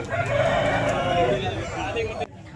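A young rooster at a Vijayawada poultry market crows loudly and close, one long drawn-out call that breaks off abruptly.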